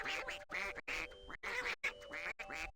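Repeated cartoonish duck quacks from a pinata-breeding video game, about five loud bursts in quick succession with short gaps, close and alone without speech.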